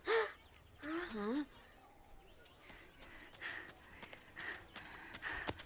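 Animated crows raiding a crop field make several loud caws near the start, followed by fainter scattered squawks and rustles.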